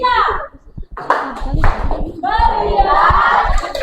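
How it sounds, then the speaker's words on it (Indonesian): An Indonesian primary-school class does a rhythmic focus clap, sharp hand claps landing among children's voices chanting together and a teacher's speech; close, lively classroom sound with the voices dominant. "kita tepuk fokus dulu untuk kelompok 3."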